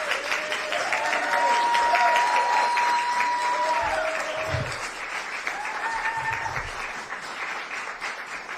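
A university audience at a press conference applauds a newly announced Nobel laureate, sustained loud clapping that swells and then slowly tapers, with faint tonal sounds mixed in.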